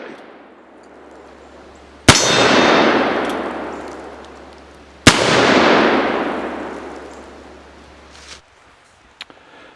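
Two loud, sharp reports from Rogers & Spencer cap and ball revolvers, each followed by a long ringing decay, spaced about three seconds apart, close to the listener with no talking.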